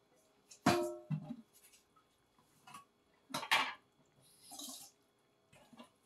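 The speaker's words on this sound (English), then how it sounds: "I'm gonna add a little bit of water to it" Metal pot and utensil clanks, with a brief splash and trickle of water poured into a pot of chicken gizzards cooking on a home stove, quiet and intermittent with pauses between knocks.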